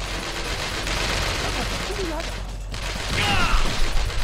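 Gunfire from an automatic weapon in the shooter video game Manhunter, a loud mechanical rattle of shots among game noise and effects, with a voice speaking over it.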